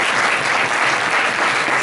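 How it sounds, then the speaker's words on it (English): Dense, loud applause from an audience for the participants of a coffee morning dance event, a continuous even roar of many hands clapping. "I'm giving applause for all the participants"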